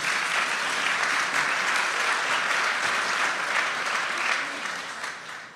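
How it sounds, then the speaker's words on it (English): Audience applause at a plaque ceremony marking a pledge organization's one-year anniversary in Central Florida: dense, steady clapping from a sizable crowd that holds at full strength and then begins to taper in the final second. "give yourself at this time an applause for getting your plaque"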